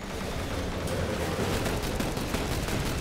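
Sustained gunfire in the video game The Bureau, aimed at a gunship, forms a dense, loud, continuous barrage of rapid shots with no pauses and no speech.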